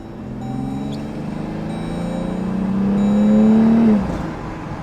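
A modified Jeep engine with aftermarket intake and exhaust idles and then revs in a rising, steady drone, growing louder before dropping off sharply, heard close with no talking.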